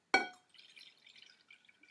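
Blue-coloured water is poured into a container: a sharp glassy clink comes first, then a faint, short bubbling trickle close by.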